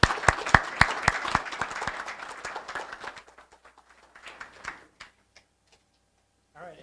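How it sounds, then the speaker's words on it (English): Sparse applause from a small group at an airport ribbon-cutting ceremony: sharp, distinct claps that thin out over a few seconds, leaving isolated claps and quiet pauses. "a special round of applause to all the Port Authority family members who took part in this"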